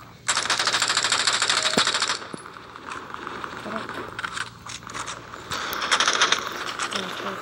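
Rapid automatic gunfire in a video game bursts out in a loud sustained stream, stops, then returns in shorter and longer bursts with mechanical clatter between them.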